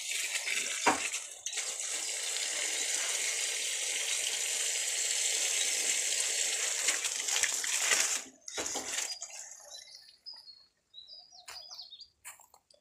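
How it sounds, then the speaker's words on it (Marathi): Water pours steadily onto the base of a young tree in a farm field for several seconds, a continuous hiss that cuts off abruptly, followed by quieter outdoor ambience with birds chirping nearby. "आपण ह्या झाडाला पाणी सोडून देऊया."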